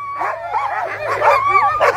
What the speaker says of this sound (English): Active, happy dog team here.